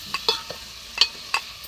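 Chicken frying in a pan with ginger, a soft continuous sizzle broken by four or five sharp clinks and scrapes of a spoon against the pan, close and without voices.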